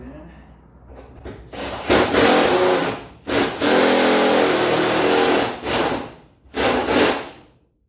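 Screws are driven into a garage door built from pallet racking, with several loud bursts of a power driver whining at close range and short pauses between them.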